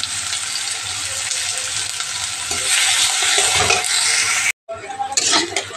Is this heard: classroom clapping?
no